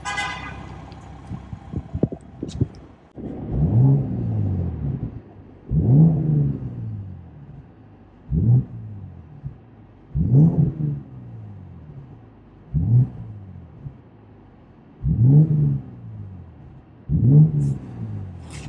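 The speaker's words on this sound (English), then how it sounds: "I'll do a few revs" A 2025 BMW M240i coupe with its 3-liter turbo engine, microphone placed near the exhaust, is started and then revved seven times at steady intervals, each rev swelling up sharply and falling back to a low idle.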